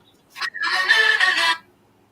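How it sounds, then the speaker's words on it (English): Short burst of a phone ringtone playing a song, a bright tuneful jingle lasting about a second after a brief chirp, heard alone. "one of my ringtones"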